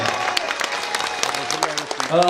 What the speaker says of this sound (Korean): 맞으면 박수 한번 주세요